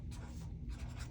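Pen writing across a cash stuffing sheet as a savings tally is marked up, a steady faint scratching with no talk.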